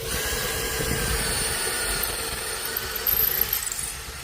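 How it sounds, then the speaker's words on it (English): A steady motorized grinding drone of a drill with a masonry bit boring into brick mortar, continuous and close, with a slight surge near the end. "Just drilling into the mortar."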